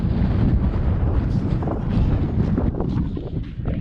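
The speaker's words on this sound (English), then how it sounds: "Apologies if it's a bit windy. We're on top of the moors." Strong wind on top of exposed moorland near Glossop, a loud continuous low rumbling buffet on the microphone that stays heavy for the whole stretch with no talking.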